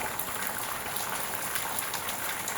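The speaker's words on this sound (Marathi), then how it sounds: "आणि बघा पाऊस कंटिन्यू चालूच आहे गावाला." Steady rain falling in a Konkan village during monsoon, a faint, even hiss of drops with no voices.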